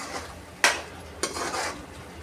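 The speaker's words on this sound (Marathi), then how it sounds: "तर आपण आता हे पनीरचे तुकडे घालून घेऊयात यावर आणि याला छान असं मिक्स करून घ्यायचं आहे" Paneer pieces stirred into cooked spinach in a pan: two distinct close scrapes of a spoon against the pan amid a soft wet mixing rustle and faint sizzle.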